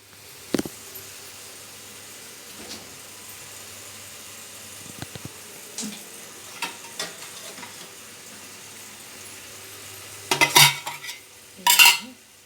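Egg bhurji stirred in a pan with a utensil, a few soft scrapes against a faint sizzle, then two louder clattering bursts of metal on the pan near the end.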